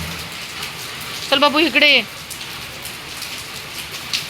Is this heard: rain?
yes